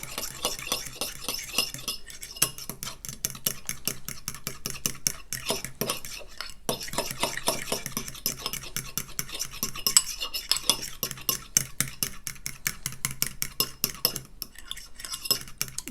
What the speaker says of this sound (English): We'll give it a little whisk with a fork.